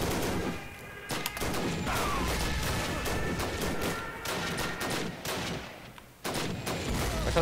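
Dense, continuous gunfire in a World War One video game battle, rifle and machine-gun shots crackling with booms and crashes, loud and unbroken throughout with no voices.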